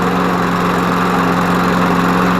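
A Craftsman Platinum lawn mower engine runs loud and close, a steady rapid chugging drone that holds an even idle without pause.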